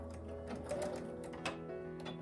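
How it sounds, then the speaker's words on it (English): A sewing machine fitted with a quarter-inch foot stitches a quilt seam, its steady mechanical whir running unbroken and close, with a slight surge midway. "I have the 1/4-inch foot on my sewing machine"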